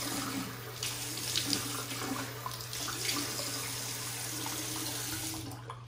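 Tap water runs steadily into a sink to wet the face before a shave, a continuous hiss and splash heard up close over a low hum for the whole stretch.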